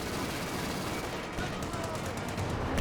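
Gunfire in a Company of Heroes 2 battle where a British 6-pounder anti-tank gun is engaging, a dense continuous wash of shooting and battle noise at moderate level throughout.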